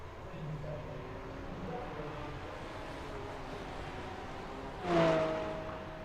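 A GT3 race car in a sim racing game at Lime Rock coasts into the pits under steady engine and track noise, with a brief louder whine near the end.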